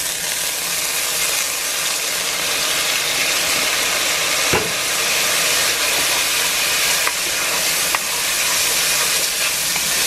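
Rice vinegar hits a hot pan after browning quail, bursting into a loud, continuous steamy sizzle and hiss, with a few sharp scrapes and clinks of a utensil working the pan bottom.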